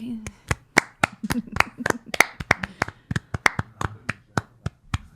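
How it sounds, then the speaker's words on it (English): Just two people clap their hands in a brief, uneven round of sharp, close claps in an indoor podcast setting, the slaps irregular rather than steady, with no talking. "The applause sounds much less significant when there's only two of us"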